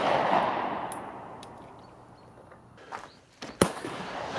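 A Hellcat pistol firing Black Hills HoneyBadger +P ammunition into ballistic gel gives a booming report that fades away, then a single sharp, loud crack near the end.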